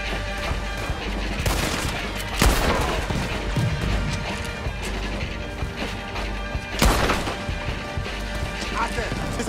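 Gunfire during a mission on Guarma in Red Dead Redemption 2, a series of sharp shots with two loud bursts standing out over a busy mix of game sound and voices.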